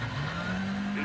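A WRC rally car sliding on a gravel stage during the Rally de Portugal shakedown, its engine note droning steadily and loudly for a brief moment with no voices over it.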